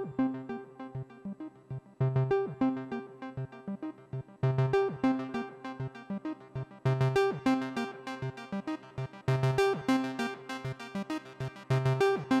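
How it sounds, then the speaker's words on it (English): An Avalon bassline synth, fed through an Analog Four with delay and reverb, plays a repeating melodic hook of plucky tonal notes in phrases, clear and alone. "This is doing the main hook that you can hear throughout the entire song."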